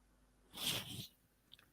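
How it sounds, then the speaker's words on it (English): A single sharp sneeze, quiet and fairly close, a brief breathy burst lasting about half a second against a faint background, followed by a couple of tiny clicks. "I'm about to sneeze a lot."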